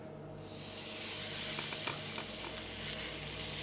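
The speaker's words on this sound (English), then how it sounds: "my fish is prepared. All I'm going to do is put it into the hot pan, press it down with the aid of a spatula" Fish pressed down into a hot pan sizzles and hisses steadily, rising quickly at the start, with a few faint clicks of a spatula under the fry.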